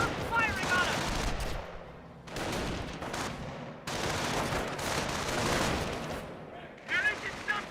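Gunfire in the strategy video game Company of Heroes crackles in dense bursts of rapid shots with a few pauses, loud and close, and a voice speaks now and then.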